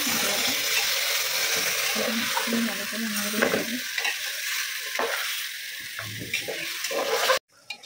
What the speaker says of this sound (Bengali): তো এখন আমি হাঁসটাকে প্রায় 10 থেকে 15 মিনিট শুধু কষাতেই থাকবো।